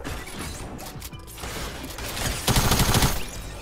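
Rapid bursts of gunfire from a Fortnite Zone Wars match, with overlapping shots and crashing impacts that grow denser and louder toward the end.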